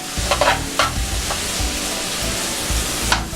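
Food sizzles in a hot pan while being stirred, with close scraping strokes and clatter over a continuous frying hiss.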